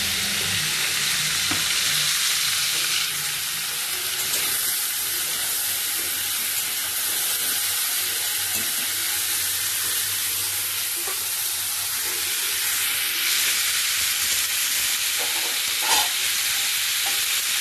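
Ground paste of green chilli, ginger, tomato, cumin powder and coriander powder frying in a covered pan, a dense, even hiss and sizzle that runs unbroken and close throughout, with faint stirring clicks and no voices.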